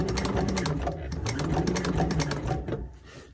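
A sewing machine stitches through a thick doubled rubber strap on a strap wrench, running in a rapid steady chatter for about three seconds before slowing and stopping at the end.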